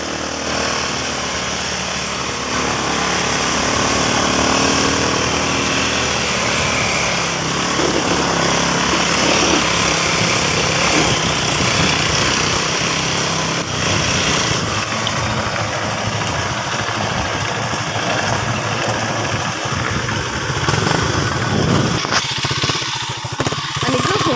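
A 250cc motorcycle engine rides loud and close, rising and dropping as it shifts between first and second gear on a rough road, with a steady droning roar throughout.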